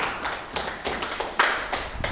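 Students clap their hands in a classroom, a scattered run of separate claps and taps of uneven rhythm, fairly faint and close, with no talking.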